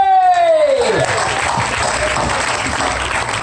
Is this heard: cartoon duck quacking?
no